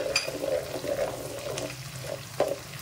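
Whole spices hit about three ladles of hot oil for an Agri-style prawn masala and give off a soft, steady sizzle with small crackles in a quiet kitchen.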